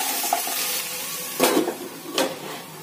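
Ridge gourd and pointed gourd stirred in a pan, with a steady sizzle and two distinct scraping strokes of the spoon, close and moderately loud.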